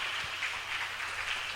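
A church congregation applauding strongly during a Portuguese-language sermon, a steady wash of many hands clapping close by, with no break across the short stretch.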